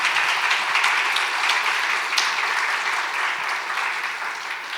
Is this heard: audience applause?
yes